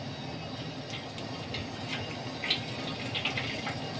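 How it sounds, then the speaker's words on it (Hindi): Green chickpeas being strained through muslin cloth set in a sieve, with a steady gentle trickle and splash of water running through continuously, fairly close, without speech. "उसमें हम लोग अभी अपना चना छान लेंगे।"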